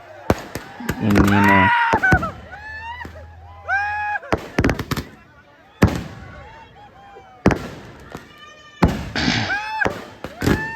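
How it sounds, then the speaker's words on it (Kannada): Fireworks and firecrackers burst at a crowded New Year celebration at Dharmasthala temple, with repeated sharp bangs and crackles scattered across the scene while a man and other people talk close by throughout. "ಪಟಾಕಿ ಹಾಗೂ ಆಕಾಶ ದೀಪ ಆಲ್ರೆಡಿ ಹಾರಿಸಿದ್ದಾರೆ"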